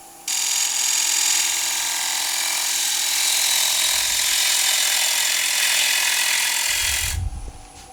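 A gouge cutting a pin-striped wooden bowl spinning on a lathe gives a steady, loud, hissing scrape that runs unbroken for about seven seconds, then stops abruptly with a low thump.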